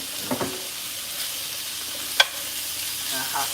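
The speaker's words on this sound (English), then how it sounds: "That hot sizzle on that steak." Sirloin steak sizzles on a hot hibachi grill at home, a soft continuous hiss with a couple of faint clinks and one sharp metallic tap from a utensil partway through.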